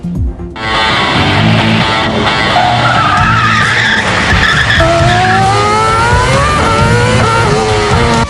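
Police cars brake hard on the Istanbul Park Formula 1 circuit, with tires squealing and skidding in a long, loud, continuous screech over revving engines.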